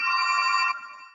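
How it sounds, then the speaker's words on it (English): A phone ringing during an online lecture on nuclear reactors, a steady electronic tone sounding clearly for under a second before cutting off and trailing away. "somebody could mute their phone"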